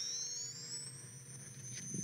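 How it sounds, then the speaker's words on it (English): A phone's text message tone: a thin electronic tone sweeps slowly upward, a sustained whining rise like a device powering up, faint and steady. "the sound that my phone makes when I get a text message"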